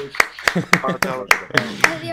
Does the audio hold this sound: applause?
yes